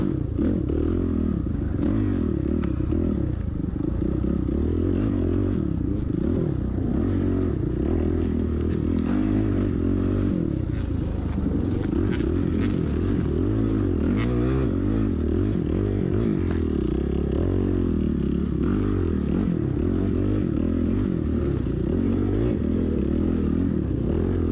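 Dirt bike engine racing through a hare scramble on a mountaintop course, loud and close, with constant revving, rising and falling throttle, and clattering and scraping over rough terrain.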